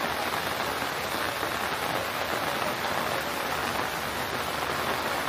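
Steady rain falls outdoors in a coastal area at dusk, an even, unbroken hiss of drops striking surfaces, moderately loud with no voices or breaks.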